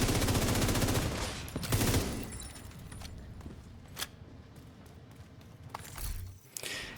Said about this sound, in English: trying to fire and reload